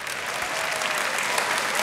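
Continuous, full applause from an opera audience for the orchestra: dense, steady clapping throughout with a faint crowd murmur.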